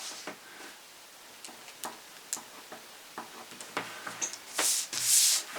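A pencil freehand drawing a bunny plush toy pattern on paper, with soft scratchy strokes in short irregular bursts, close and quiet, ending in a couple of brighter, firmer rubs.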